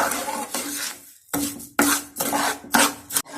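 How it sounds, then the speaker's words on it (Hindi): A spoon scrapes and stirs melting sugar in a cooking pan on the stove for chickpea-lentil chikki, giving a run of short, close rasping strokes with brief pauses between them. "चम्मच चलाते रहना साथ साथ जब तक इसका कलर ना चेंज हो जाए"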